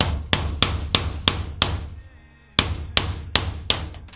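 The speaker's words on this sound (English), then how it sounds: "you still have to tap it out with a hammer and chisel" Sharp metallic hammer strikes on a chisel tapping out a rivet on a school bus conversion, a loud steady series of clangs with a brief pause midway before the blows resume.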